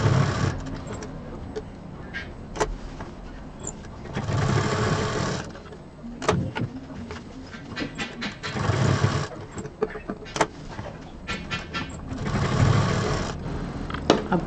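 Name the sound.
sewing machine stitching bag belt to piping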